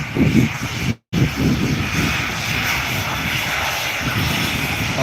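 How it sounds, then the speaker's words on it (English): A large radio-controlled model A-10 Warthog jet flies past, giving a steady, loud roaring engine drone that holds for several seconds after a brief cut near the start. "Okay, safely away is the A10, otherwise known as the Warthog."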